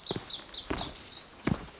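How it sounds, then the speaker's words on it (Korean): Small birds sing in quick repeated high chirps on a steep mountain trail in Bangbaesan forest, Korea, faint and nearby, with a few soft footsteps crunching underneath. "새소리 좀 보십시오."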